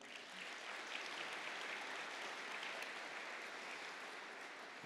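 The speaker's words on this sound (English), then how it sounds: "Could I ask for a round of applause for them?" Faint, steady applause from an audience at a school's annual State of the School presentation, sounding distant and even throughout, with no talking.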